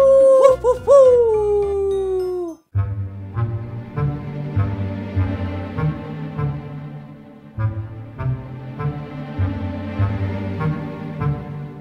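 A canine howl, the werewolf or big bad wolf kind, rises and falls in long wavering tones for about three seconds. Steady rhythmic music with a beat carries on alone after it.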